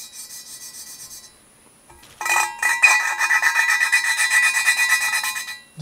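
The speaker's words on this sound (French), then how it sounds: "Vous allez voir que quand on les rôde, le bruit change." Engine valves being lapped into their seats during a rebuild, a steady smooth rasping grind of rapid back-and-forth rubbing strokes, close up, with a brief lighter passage, a pause, then a longer continuous stretch, no talking.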